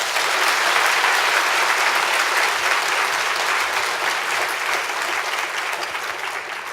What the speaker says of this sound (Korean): 축복합니다. 의미로 박수로 맞이하시겠습니다.